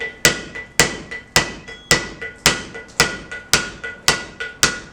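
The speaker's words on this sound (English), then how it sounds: "I'll take my claw and just kind of stab at it." A claw chisel struck with a hammer stabs at a high point on carved stone, about nine sharp, loud, evenly spaced metallic blows ringing close by, with no talking.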